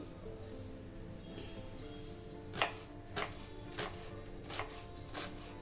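A knife chops onion and tomato finely on a chopping board, landing about five distinct, fairly evenly spaced cuts over a quiet background hum.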